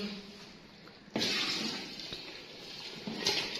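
Mutton trotter broth (paya yakhni) is poured into a cooking pot. The liquid rushes and splashes steadily for a few seconds at close range, quiet overall, with no talking.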